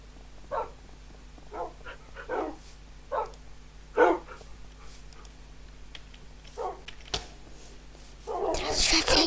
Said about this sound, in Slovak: Teraz, keď už mám konečne nejakú tú armádu psov.